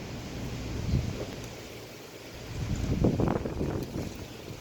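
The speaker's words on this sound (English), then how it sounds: "It is windy as hell out here right now." Gusty wind buffets the outdoors, surging in low rumbling waves with rustling bursts, strongest near the start and again later.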